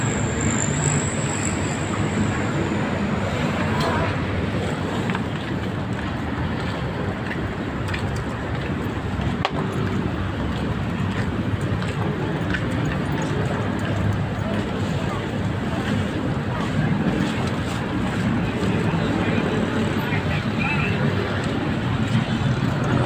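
MRT train on an elevated line along a busy city avenue, a constant loud rumble and roar of rail and traffic noise lasting over twenty seconds, with voices talking underneath.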